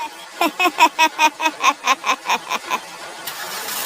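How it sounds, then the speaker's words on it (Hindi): A car engine cranks in a loud, close run of about a dozen rhythmic starter pulses, then catches and settles into a steady low running rumble. "मैंने गाड़ी स्टार्ट की और हम वापस सड़क पर आ गए।"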